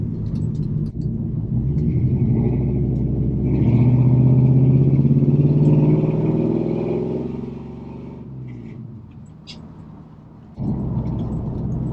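LS-swapped 1986 Chevrolet C10 pickup driving around the block, a loud, close V8 rumble that swells as it accelerates, eases back to a lower idle-like drone, then picks up again.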